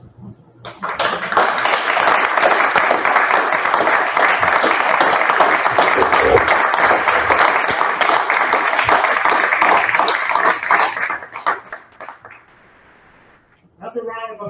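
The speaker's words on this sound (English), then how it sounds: "Another round of applause for Barbara Brady" Sustained audience applause after a storytelling performance, a dense, loud roar of many hands clapping that holds steady for about ten seconds before fading away, with a voice briefly heard once it dies down.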